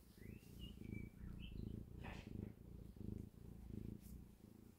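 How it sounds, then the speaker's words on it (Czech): A house cat purrs close and steady in rhythmic rumbling pulses, about two per second, while faint bird chirps come from the background. "I'm home a já tady mám zase kočičku."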